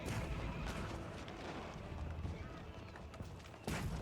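Cannons firing during a video game joust, with steady booming rumble and sharp blasts under a continuous dense mix of battle noise.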